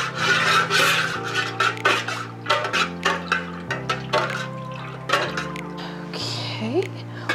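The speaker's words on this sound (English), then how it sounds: "we just wanna keep stirring until everything is completely incorporated into the wax" A utensil stirs color block into melted candle wax in a pot, giving repeated scraping and rubbing strokes at close range over steady background music.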